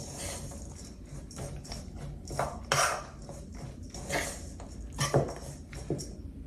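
A homemade granola mixture is stirred with a spoon in a bowl, soft clumping and scraping strokes with light clinks of the spoon against the bowl, close and fairly quiet, without speech.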